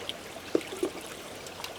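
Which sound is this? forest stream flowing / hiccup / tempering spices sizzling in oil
forest stream flowing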